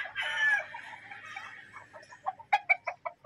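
Chickens at a fiesta in Badian, Cebu, with a rooster letting out a drawn-out crow, followed by a run of sharp, close clucks in quick rhythmic bursts.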